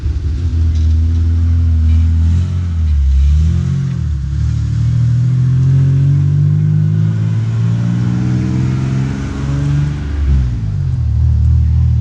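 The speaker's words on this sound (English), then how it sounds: "we'll let the car pass." A car passes along a road beside a garden on a summer walk, a steady loud engine rumble rising and falling over about twelve seconds with no talk.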